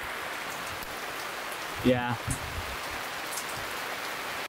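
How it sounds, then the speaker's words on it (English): Heavy rain falls steadily outdoors, a dense, even hiss that lasts throughout, with a brief voice near the middle. "As you can hear, it's like stupid raining"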